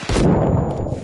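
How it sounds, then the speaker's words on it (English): A frag grenade detonating in the Arma Reforger video game booms loud and close, its broad blast rumbling and fading over about a second. "Get a frag in there. Fire in the hole."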